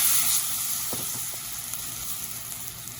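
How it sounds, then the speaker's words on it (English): Garlic browns lightly in a hot pan for bruschetta chicken pasta, a close, bright, steady sizzle with a few soft clicks, and no voices. "I want to just get it a little tiny bit brown, but not burn"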